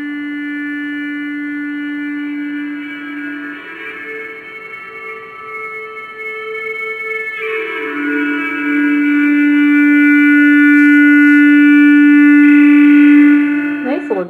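An ambient EBow guitar recording with added reverb: long sustained, pure tones that hold steady, shift pitch a few times and swell louder toward the end before a short plucked flourish.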